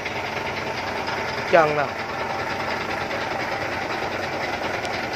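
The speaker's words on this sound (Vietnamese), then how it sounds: "Máy nổ rất êm anh chị nha." A 2007 Mercedes Sprinter 311 van's engine idles smoothly with a steady low rumble, while someone says a brief phrase partway through.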